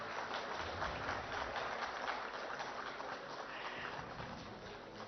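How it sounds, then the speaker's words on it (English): Sustained applause from a large conference audience at an AI conclave, a dense steady wash of clapping filling the whole stretch at moderate distance with no talk over it. "Let the applause continue,"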